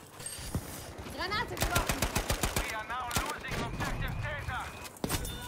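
A silenced M3 Grease Gun fires in Battlefield 5, giving clusters of muffled rapid shots mixed with other battlefield crackle, while a player's voice talks over much of the action.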